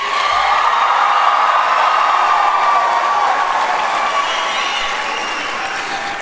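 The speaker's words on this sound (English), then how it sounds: "can we just give a big cheer to class of" A large graduation crowd at a high school ceremony applauds and cheers continuously, a dense wash of clapping with scattered whoops that holds steady and fades slightly toward the end.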